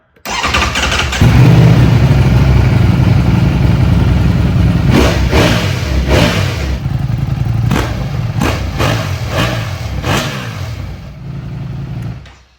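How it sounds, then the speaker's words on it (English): A 2025 Ducati Panigale V4 sport motorcycle with stock exhaust starts and idles loudly up close, then is revved hard several times in sharp bursts in neutral past 4,000 RPM before shutting off. "what exactly the stock exhaust sounds like on the 2025 Panigale V4"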